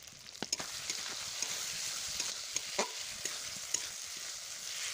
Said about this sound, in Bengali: আলুটা মশলার সাথে ভালো করে আরও এক দুই মিনিট আমি জ্বালিয়ে মানে ভেজে নেব